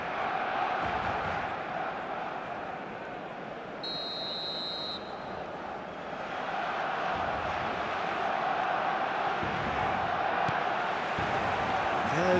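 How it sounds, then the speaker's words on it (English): A full stadium crowd in the eFootball video game roars steadily throughout, a dense, continuous wash of cheering and chanting with a brief electronic beep partway through. "The stadium is full of noise and energy."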